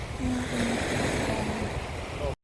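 Sea surf rolling in at a beach in Naic as the tide rises, a steady broadband wash with wind buffeting the microphone, continuous and fairly loud throughout before cutting off abruptly at the end.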